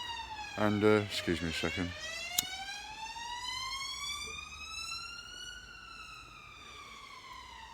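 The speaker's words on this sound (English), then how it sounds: "I hope that's an ambulance and not the police." A police or ambulance siren wails outside in the early morning, loud and rising and falling with harmonic sweeps, while a person briefly speaks over its start.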